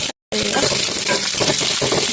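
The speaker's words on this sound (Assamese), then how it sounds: "ভাজি আছোঁ" Bitter flowers sizzle and crackle steadily in a hot pan, a dense close frying hiss after a brief silent gap at the start.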